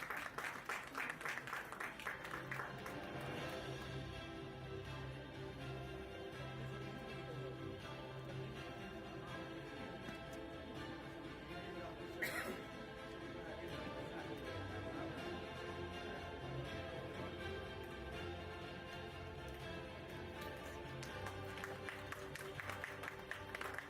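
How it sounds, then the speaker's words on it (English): Audience applause at a school principals' event in Jammu, a sustained crowd clapping that fills the room steadily for the full length, fairly distant and even, with no talk over it. "Don't let the applause stop."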